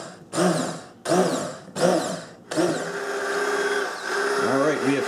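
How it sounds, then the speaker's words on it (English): An immersion blender whirring in short bursts, switched on and off three times, then running continuously with its pitch wavering, close and loud. "I am going to be pulsing the immersion blender on and off more or less constantly"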